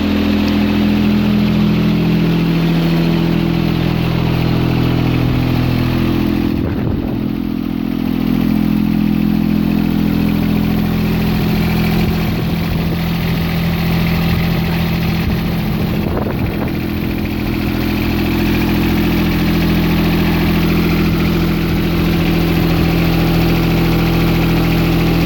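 A vehicle engine idling steadily and loudly up close, a constant low rumble with a few clatters and knocks partway through, no voices.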